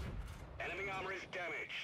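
A tank cannon shot in the World of Tanks game gives a heavy boom at the start, and a commentator soon talks over it.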